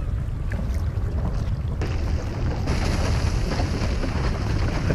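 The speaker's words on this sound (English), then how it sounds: "the glaciers just collapsed in front of me" Glacier ice collapses in the National Geographic VR game on Oculus Quest, a loud broadband roar and rumble that swells in stages and keeps thundering, with no voices.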